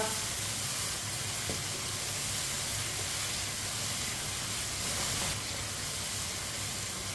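Mutton and pumpkin for kaddu gosht cooking in a pot, a continuous broad sizzling hiss with steam, steady and close throughout, without speech.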